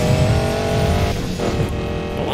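Loud, close engine note of a Mustang in Need For Speed Payback, a sustained rich roar that dips briefly as if shifting gear, then carries on strongly, with no voices.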